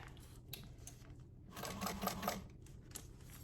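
A sewing machine basting the layers of a fabric bag together, a quiet, steady rapid stitching chatter running throughout with slight swells in the middle.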